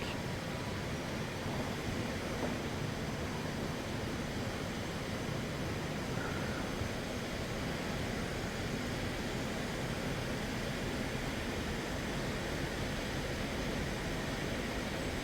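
Rafale fighter jet engines running in a flight simulator game, a steady, loud, broadband whooshing roar that stays even throughout with no talk.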